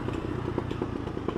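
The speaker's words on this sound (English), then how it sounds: "that popping is taking place at the end of the exhaust due to pressure change" A Triumph Daytona 675R exhaust pops and crackles after the throttle is cut. A rapid string of sharp, irregular bursts rides over a low engine rumble, loud and close, with no one talking.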